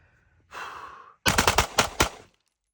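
Ported pistol fired into cardboard at close range: a broad whooshing burst, then a rapid string of about six sharp, loud shots in quick succession, with no talking.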